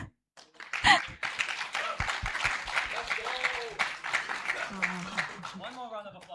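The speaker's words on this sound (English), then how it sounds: "We give him another applause to welcome him." An audience at a business challenge event bursts into applause, a dense patter of clapping that swells and carries on for several seconds, with scattered voices and a whoop mixed in.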